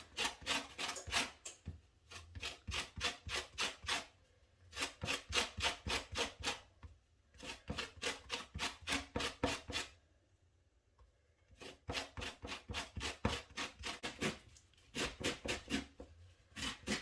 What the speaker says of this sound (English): we're getting the zest there from the orange